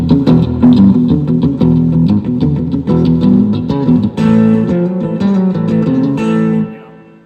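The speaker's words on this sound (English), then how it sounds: "So one's like a slapback. You know, you're barely getting it." An electric guitar plays a busy, driving riff through a slapback echo effect, a short, tight echo thickening each note, then lets the final chord ring out.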